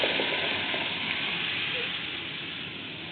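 Garlic and tomato sauce fry in a pan with a splash of vinegar, a steady loud sizzle and crackle that fades slightly over a few seconds.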